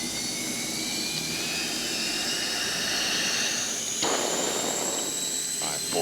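An aircraft engine starts up with its RPM rising, a loud, steady jet-like roar and high whine that climbs gradually in pitch. A faint voice is heard under it.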